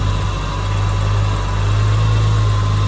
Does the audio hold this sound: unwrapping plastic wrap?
no